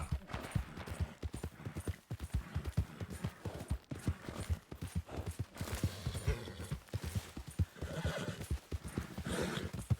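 A horse gallops and neighs in a video game, its hooves thudding in a fast, steady rhythm over several seconds, with loud whinnies breaking through near the middle and end.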